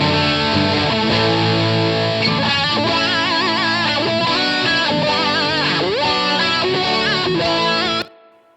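Three layered electric guitar tracks from an instrumental rock mix play loud, distorted sustained chords and bending lead lines, then cut off and leave a short, washy reverb tail fading away.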